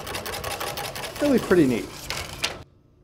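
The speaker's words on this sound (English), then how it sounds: "you can also kind of see the pull-down claw right here, kind of like a sewing machine mechanism" A Lumière Cinématographe's pull-down claw mechanism runs with a fast, steady, sewing-machine-like clatter, close and continuous, with a person talking briefly over it before it stops abruptly.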